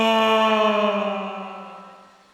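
A performer's voice imitates a fighter plane flying fast, a single sustained harmonic roar that starts loud and slowly fades away over a couple of seconds, heard alone without talk.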